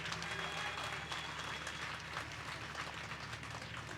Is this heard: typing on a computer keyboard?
no